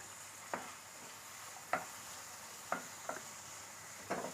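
Tomatoes and raw mango pieces being stirred in a pan for a mango coconut tomato chutney, five separate scrapes spaced about a second apart over a soft steady sizzle, with no one talking.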